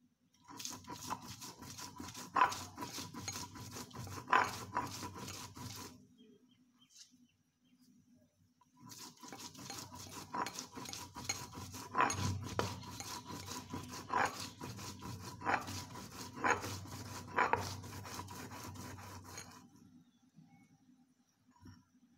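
Spices for a Mejbani-style mutton paturi are ground by hand. Rhythmic rubbing and scraping strokes continue for about six seconds, pause briefly, then resume for a longer stretch, close and fairly soft.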